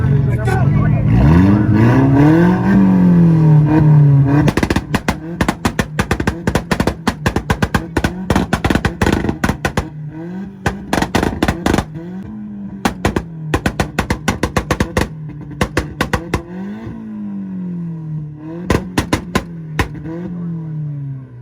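Tuned cars at an IFO Ohio 2023 rev battle, a VW first, rev their engines hard, then fire rapid, loud bursts of two-step pops and bangs in repeated rhythmic volleys, with voices in the crowd.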